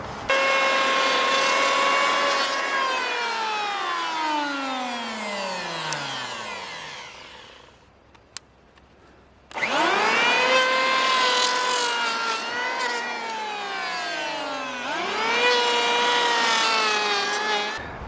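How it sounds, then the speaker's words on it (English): A powered hand planer runs over a large wooden log being smoothed for a table: two long, loud whining passes with falling then rising pitch, separated by a brief quiet gap, close up, no talking. "I'm going to run the hand planer over it a few times"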